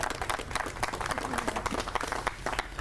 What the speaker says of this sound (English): I think the big thing is a round of applause for Chief Minter for surviving his first St.